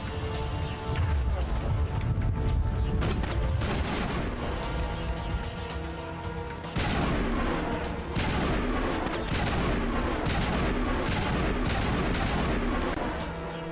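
Dense bursts of sci-fi gunfire during combat in the Mass Effect video game, loud and nearly continuous, with rapid cracks and heavier impacts over a thick backdrop of game effects and music.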